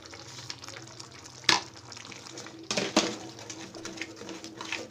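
Ground spices sizzle with egg masala in a pan as a spoon stirs through it, a steady close frying hiss broken by a couple of sharp scraping knocks against the pan.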